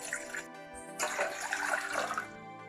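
Two cups of water pour into a cooking pan to start sugar syrup for gulab jamun, a splashing, gurgling stream that thickens after a brief pause and runs steadily, fairly close.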